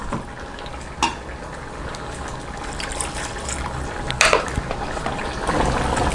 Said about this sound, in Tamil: அரைச்சதை ஊற்றிக்கலாம்.